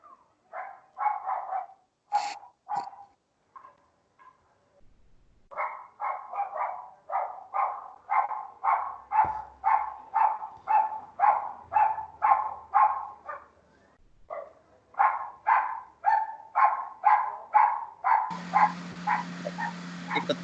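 Dog at a house barking in a long series of sharp, regular barks, moderately close, with a brief pause midway and no talk over it.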